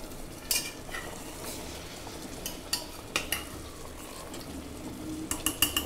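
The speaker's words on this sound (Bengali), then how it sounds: "আবারও একটু নেড়ে নেব।" Meat and potatoes in a cooking pot with a little water added, stirred by a utensil that gives scattered scrapes and metallic clinks over a quiet background simmer, busier near the end.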